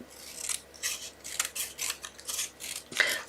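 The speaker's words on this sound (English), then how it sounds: "I'm going to cut that down a little bit thinner" Scissors snip through cardstock while trimming a strip thinner for a handmade Stampin' Up wedding card, giving a quick series of close, crisp cuts with short pauses between them.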